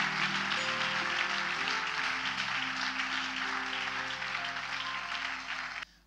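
A church congregation clapping together, dense sustained applause with organ or keyboard tones held underneath, fading and cutting off at the end.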